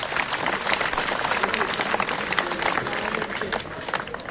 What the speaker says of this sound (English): Have a huge round of applause for him